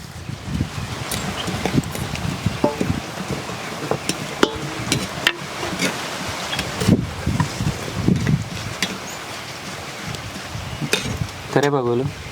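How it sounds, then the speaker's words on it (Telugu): Tempering spices sizzle and crackle in hot oil for lemon rice, with steady frying hiss, scattered pops and stirring clatter running throughout, ending with a brief clank near the close. "అలాగే ఇదే నూనెలో పోపు దినుసులు కూడా వేసుకుంటాను."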